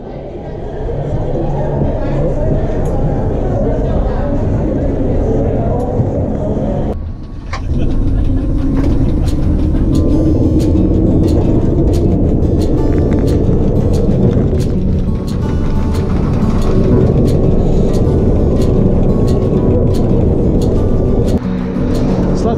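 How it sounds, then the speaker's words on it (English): A steady, loud rumble of a train in motion with periodic clicks, a brief dip in the noise, and voices chattering underneath. "this is the train that takes you back"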